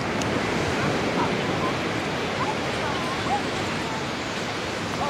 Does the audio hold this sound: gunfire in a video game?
no